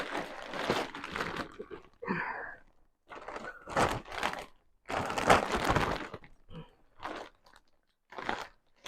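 A yarn package is cut open up close, giving quiet bursts of crinkling plastic and crunchy snips separated by short pauses.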